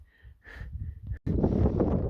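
Gusty wind buffets the microphone on a cold mountainside at 12,000 feet along the Colorado Trail, a few faint breathy sounds first, then a loud sustained roar of rushing air.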